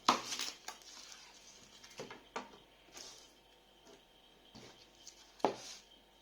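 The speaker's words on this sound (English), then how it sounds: "So I'll start by slicing the onion. Just want to cut it in half." A knife cuts through an onion on a board, giving a few soft, separate thuds and taps at close range among quiet kitchen handling sounds.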